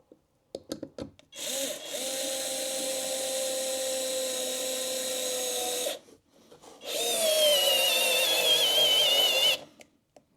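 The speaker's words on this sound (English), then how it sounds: "I'll be really impressed if it can handle these screws, as they are pretty tough even for some drills." A FLEX electric screwdriver drives tough screws in two long, steady motor whirs of several seconds each, the second straining higher, with short clicks and a pause between runs.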